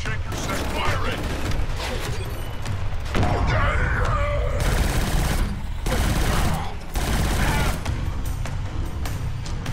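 Heavy, sustained gunfire in Killzone Shadow Fall comes in loud overlapping bursts and volleys with brief gaps, mixed with mechanical clatter and a voice speaking now and then.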